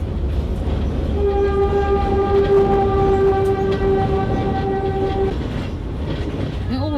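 Passenger train rumbling directly over a house built beneath the rails, with a loud sustained horn blast over a continuous heavy low rumble and rattling that sounds very close.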